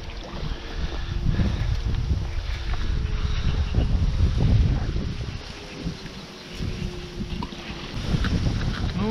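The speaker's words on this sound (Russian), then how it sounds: "Видите, да, ветер какой?" Strong wind buffets the microphone beside a Volga channel on a spring fishing trip, with waves, a steady loud broadband roar and gusting rumble for the whole stretch and no talk.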